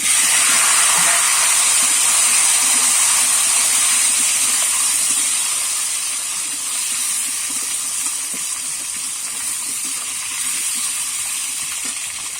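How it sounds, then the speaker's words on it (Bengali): Washed, cut potatoes added to hot oil with cumin seeds, giving a loud, continuous sizzling hiss close by that eases slightly as it goes on. "এবারে ধুয়ে কেটে রাখা আলুটা দিয়ে দেব।"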